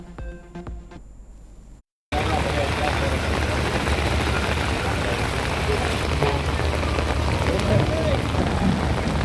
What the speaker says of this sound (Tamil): வெளுத்து வாங்கிய மழையால் குளமாக மாறிய புதிய பேருந்து நிலையம்